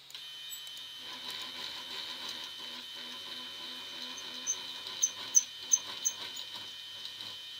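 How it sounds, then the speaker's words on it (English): A 3D printer's extruder homes and raises about 30 millimetres, giving a quiet, steady whirring of stepper motors under a constant high hiss, with a few brief sharp ticks near the end. "we'll get the extruder into the home position. Then we'll raise it up about 30 millimeters here."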